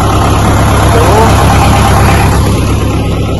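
A John Deere 7000 tractor engine idles with a loud, steady low rumble close by, while someone talks over it.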